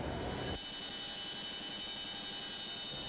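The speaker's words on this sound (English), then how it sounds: "Every day, American helicopters scour the mountains and the desert in this region." Steady, droning rotor and engine noise from American military helicopters flying over mountains and desert near Kandahar, Afghanistan. Heard continuously and at a distance, with a brief louder burst at the start.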